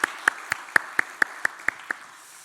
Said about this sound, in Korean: 이 시간 한번 감사와 위로, 격려의 박수를 함께 드리겠습니다.